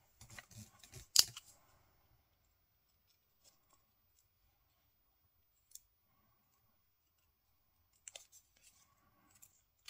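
Scissors snip off excess craft material on a scrapbooking journal page, with one crisp close cut followed by a few faint, sparse clicks in near silence.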